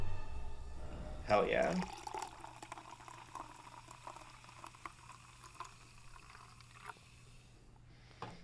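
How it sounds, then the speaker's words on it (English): Rum and Coke is poured into a glass, a short splashing pour followed by a faint fizzing trickle that fades out, with a person speaking briefly near the end. "Let me get some rum and Coke. Listen to it pour."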